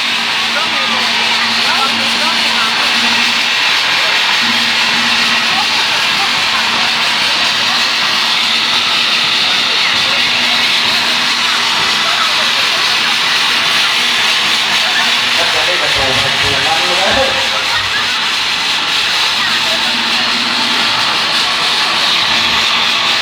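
A bang fai bamboo rocket launches at a village rocket festival, giving a loud, steady roaring hiss that runs the whole time with faint crowd noise beneath it.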